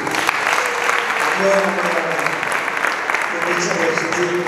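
Wedding guests applaud inside a church, with loud, sustained clapping from a close crowd that holds steady for several seconds.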